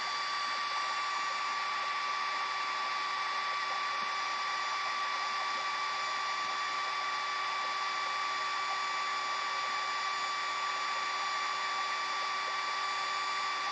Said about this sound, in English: Wish I had a faster drill.